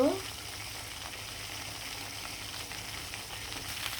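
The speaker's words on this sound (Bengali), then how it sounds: "এটা আমি লাল লাল করে ভেজে নিব" Chicken leg pieces fry in a pan with a soft, steady sizzle and crackle throughout, fairly faint and continuous with no talking over it.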